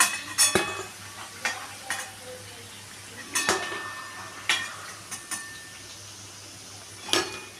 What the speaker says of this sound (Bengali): এটা আমি ভালো করে ভাজতে দিচ্ছি।